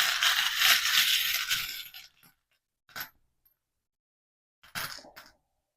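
Small metal angel charms handled and dropped, a burst of jingling followed by two brief clinks separated by silence.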